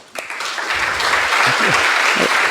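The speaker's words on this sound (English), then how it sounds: "Please, a round of applause." Loud audience applause bursts in and carries on for a neurorobotics lecture speaker being welcomed to the stage. The clapping is close and sustained, with faint voices beneath it.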